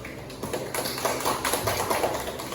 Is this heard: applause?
yes